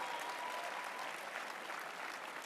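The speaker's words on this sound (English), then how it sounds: "I can tell from your applause" A large conference audience at CPAC applauds in a steady, dense wash of clapping that holds evenly throughout, heard from a distance rather than up close.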